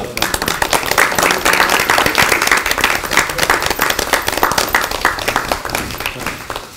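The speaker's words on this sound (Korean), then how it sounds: "박수 치죠, 박수." Clapping from a group gathered for a political party induction ceremony, loud, close and steady for the whole stretch, with many hands striking in a dense, continuous patter.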